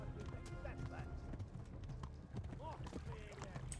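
Horse hooves clip-clopping in the Kingdom Come: Deliverance video game, a quick rhythmic trot heard faintly under a busy low game soundscape, with voices speaking over it.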